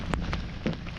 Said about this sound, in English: the rain is definitely coming down now